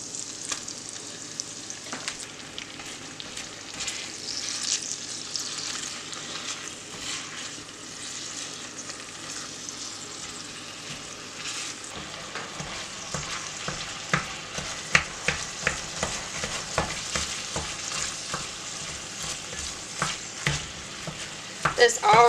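Sausage frying in a pan for rustic potato soup, with a continuous sizzle that thickens partway through as stirring scrapes and clatters become busier and louder.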